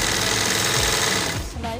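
A sewing machine runs steadily, stitching the belt of a dhoti shalwar, a dense continuous mechanical whir close by that slows and breaks off near the end, with faint voice traces.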